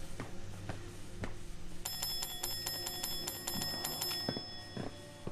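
Bell rung in the video game Fallout 76: a rapid, bright metallic ringing begins after a few soft thuds and scattered clicks, sustained trilling for a few seconds over faint game ambience.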